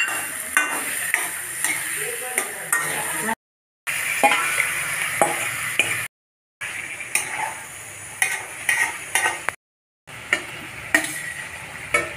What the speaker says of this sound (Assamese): আলুখিনি ভাজি ল'ব লাগিব আগতে